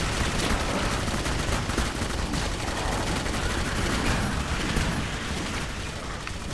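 Continuous heavy gunfire rattles through a firefight in the horror shooter Clive Barker's Jericho, a dense, unbroken barrage of shots and crashing effects from start to end.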